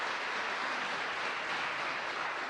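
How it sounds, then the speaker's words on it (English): A church roundtable audience gives steady, dense applause that sounds moderately distant and continues evenly with no voices over it. "Can we have round of applause for Bobby and TPP."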